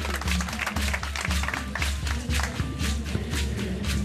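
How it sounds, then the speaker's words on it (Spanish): Applause from an audience welcoming a speaker at a talk, steady and dense, mixed with a rhythmic low thumping underneath, with no voices over it. "recibámonos con un fuerte aplauso, por favor."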